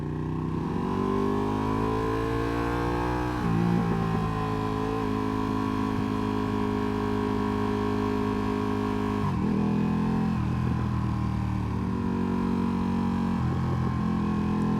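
A rebuilt naked 2016 Ducati Panigale engine braking while ridden, a steady droning engine note whose pitch rises and falls through several shifts, constant and loud with no voices.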